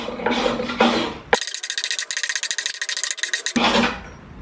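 Breaking the edge of a wooden piece with a hand tool gives a quick run of rasping, scraping strokes lasting about two seconds, close and fairly loud, between stretches of other workshop noise.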